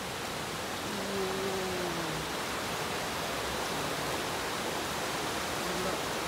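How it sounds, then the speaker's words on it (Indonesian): Steady broadband rush of a waterfall at Situ Gunung, a constant full-spectrum roar filling the whole stretch, with faint tonal hints and no clear speech. "Oh, gila itu ada kan sudah waterfall"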